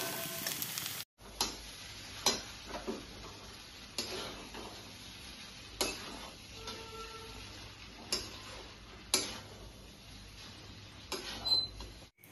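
Spatula scraping and stirring egg and chow noodles in a wok, with soft sizzling beneath; sharp metallic strokes land every second or two, close and fairly quiet, with no talk.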